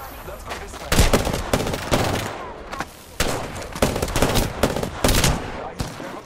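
Rapid bursts of gunfire from the Apex Legends battle royale shooter crackle in repeated volleys, loud and close, with short gaps between automatic strings and sharp single shots.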